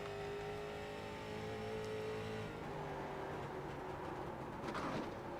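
Onboard a street stock race car at Nashville Fairgrounds, its engine droning loud and steady at close range, pitch shifting slightly midway, with a brief rising roar near the end.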